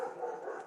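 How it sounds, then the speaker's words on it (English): A dog barks faintly in the background, a short muffled burst heard from a distance with no speech over it. "the dog barking"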